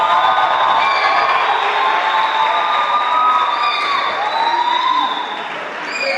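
An audience at a university debate session at the 2018 Bilateral Games in Ghana applauds the director of sports, a dense, sustained wash of clapping with whistles and cheers that thins toward the end.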